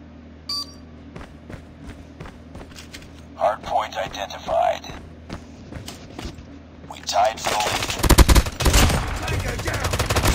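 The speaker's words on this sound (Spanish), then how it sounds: "Necesito cuatro tiros a la cabeza" Bursts of rapid gunfire in the video game Holguer 26, scattered shots building into heavy automatic fire near the end, with electronic beeps mixed in.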